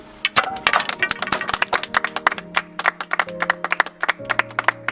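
Villagers in a comedy serial clap by hand, a sharp, uneven patter of individual claps close by with faint musical tones beneath.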